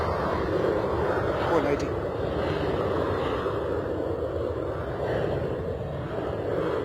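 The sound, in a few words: aircraft on the runway at London Stansted Airport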